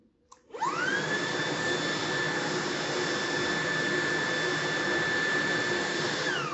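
A cordless stick vacuum switches on and runs steadily at full power, a loud high-pitched whine over broadband airflow roar, continuous with no talking.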